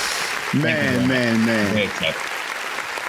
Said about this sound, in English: Give some round of applause.